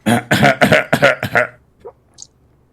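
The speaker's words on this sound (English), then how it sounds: "Dying Ghoul's coughing up blood." A dying ghoul in the game Fallout coughs up blood: a rapid series of harsh, wet coughs bursts out close up, then trails off into a couple of faint rasping sounds.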